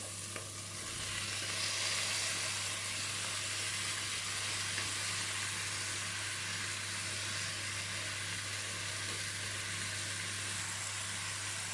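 Leeks and a whole garlic clove sizzle in a pan for a leek tart, a steady close frying hiss that swells after the first second and holds evenly over a low constant hum, with no talking.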